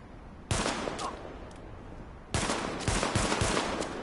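Gunfire in The Division video game comes in two dense, sustained bursts of rapid shots, the first short and the second longer and harder-hitting, with a moment of quiet between them.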